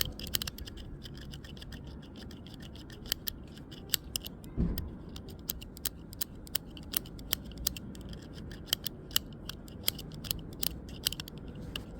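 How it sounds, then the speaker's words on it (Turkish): Flat screwdriver scraping black residue off the contacts of a Ford Fiesta rear brake-light bulb, a faint string of sharp, irregular clicks and scratches close by, with no talk. "temassızlık olmaması için diplerinde oluşan şu siyahlığı düz tornavida yardımıyla temizliyorum"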